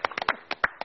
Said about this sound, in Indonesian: kita tepuk tangan buat berempat